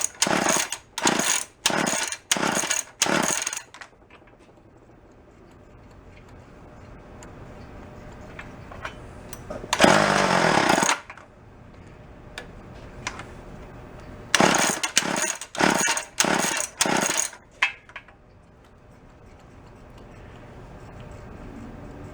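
An antique gas-powered drill engine sputters to life in short, loud, close bursts of rapid firing, breaking off into quiet gaps before catching again in uneven runs.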